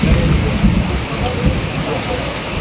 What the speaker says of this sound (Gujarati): જોરદાર વરસાદ પડી રહ્યો છે અત્યારે